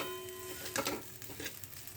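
Food frying in a kadai is stirred, a soft continuous sizzle broken by a few scraping strokes of the spoon, close and quiet, with no voices.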